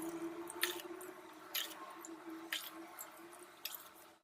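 Water splashing and dripping into a cooking pot of millet and moong dal for sweet pongal, soft irregular splashes and trickles recurring every second or so, faint and close with no voices.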